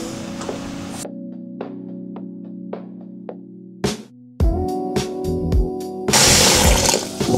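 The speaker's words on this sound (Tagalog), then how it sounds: "Okay, at dagdagan natin ng tubig." Water is poured into a cooking pot while making Ilocano papaitan soup, a brief splashing and gurgling pour near the end following clinks and a steady hum, close and moderately loud.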